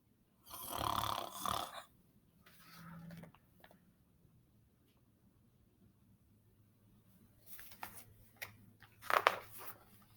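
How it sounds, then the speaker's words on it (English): Two loud, breathy snores, then a quiet stretch with faint rustling, followed by several more snorts and snores near the end. "That's when they all heard a snore"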